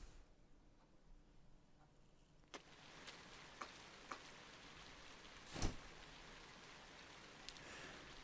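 Soft, steady rain patters in the Trails of Cold Steel video game, a faint hiss of falling drops with a few louder ticks and taps scattered through it.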